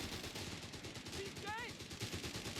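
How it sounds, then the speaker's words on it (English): Dingo armored car fires on enemy infantry in Company of Heroes 3, a busy run of fast machine-gun bursts mixed into constant battle noise, with a brief whistling tone partway through. "Dingo opening fire on the Grenadiers from the side"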